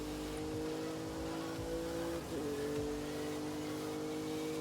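Engine drone of a car in a chase in the video game Forza Horizon 5, a steady sustained hum with a brief pitch dip midway, running continuously with faint background activity.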